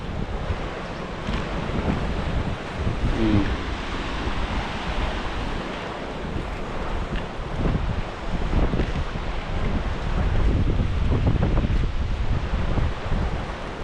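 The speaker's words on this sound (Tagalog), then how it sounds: "Hangin dito." Strong wind buffets the microphone in a steady roar, with waves washing in the background.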